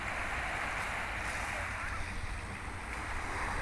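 Sea surf washing onto a shore at a beach with bathers nearby, a steady broad rushing wash that fills the whole stretch at moderate level with some wind buffeting the microphone.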